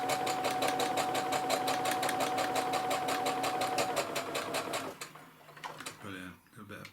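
A sewing machine stitches a trouser pocket reinforcement, a fast steady mechanical ticking that runs loud for about five seconds and then stops, after which someone speaks.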